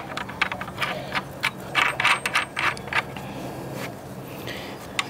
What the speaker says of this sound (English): Just tighten them down.